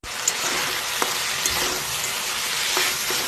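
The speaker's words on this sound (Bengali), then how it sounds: "ভালো করে পোস্ত দিয়ে ঘি করলা আলু সব কিছু ভেজে নিচ্ছি পেঁয়াজ দিয়ে।" Bitter gourd, potato, onion and green chili frying with poppy seeds in a pan, a steady close hiss of oil with a few small clicks of stirring and no talking.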